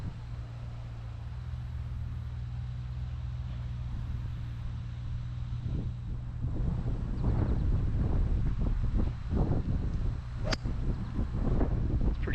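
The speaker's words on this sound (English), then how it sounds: "A lot of wind." Wind gusting across an open golf course buffets the microphone in a low continuous rumble, growing rougher and louder with stronger gusts in the second half.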